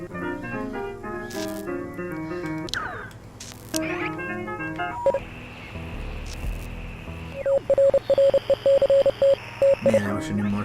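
Radio static and crackling interference in Oxenfree, with bursts of music and garbled broadcast voices before a run of steady beeping Morse code tones cuts through the noisy hiss.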